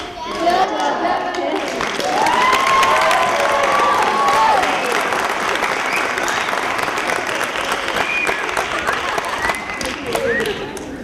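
A conference audience breaks into sustained applause with scattered cheers, dense clapping swelling early and continuing steadily for over ten seconds, with a voice talking faintly partway through.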